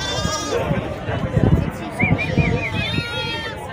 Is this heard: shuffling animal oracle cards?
no